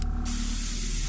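Spray paint hisses around the cobblestone base of a fire elemental miniature: a short burst, a brief pause, then one steady, close, loud hiss lasting about a second.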